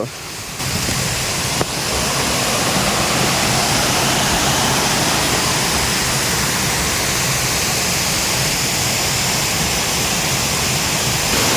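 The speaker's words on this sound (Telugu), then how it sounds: "చాలా బాగుంది వాటర్ ఫాల్ అయితే" Heavy rushing water from Kusaloya waterfall in Parvathipuram Manyam, India, fills the air, a steady broad roar that barely changes, with a quiet moment at the very start.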